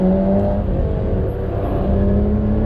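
A Ford Mustang race car on an autocross course, its engine droning steadily with a sustained tonal whine, loud and close throughout with no talk over it.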